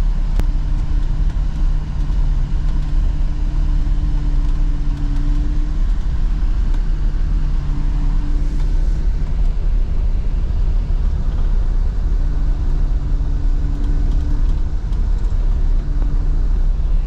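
A Snow Rabbit snow groomer labors up a steep ski trail of about 30% grade, its engine a steady, loud low rumble with tonal drone throughout, rising and falling slightly in pitch as it climbs.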